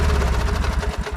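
A Briggs & Stratton ride-on mower engine idles close by in a steady, loud low chug with a fast, even pulse and no one speaking.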